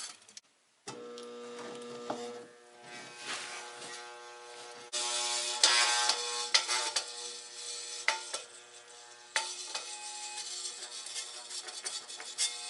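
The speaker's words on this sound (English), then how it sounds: "No, that rotor's binding up on the stator big time." A salvaged electric heater motor with its rotor binding on the stator, heard as a strained mechanical whir and buzz that starts abruptly, then surges and grinds irregularly at close range.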